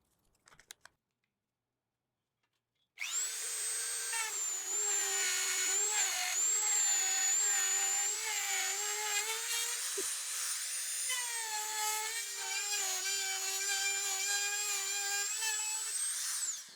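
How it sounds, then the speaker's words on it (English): A rotary tool fitted with a router bit carves a deep mould, starting after a short quiet stretch and then holding a continuous high-pitched whirring grind with small wavering pitch changes, close and steady to the end. "a router bit in the rotary tool"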